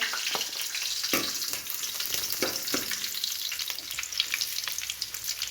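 Chopped coconut pieces fry in hot oil in a pan, a steady close sizzle with scattered clicks and crackles from stirring throughout.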